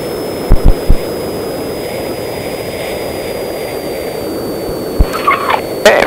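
A steady, droning hum from the twin engines of a Diamond DA-42 NG airplane at powered idle runs throughout, with a few short thumps early on and brief mechanical clatter near the end.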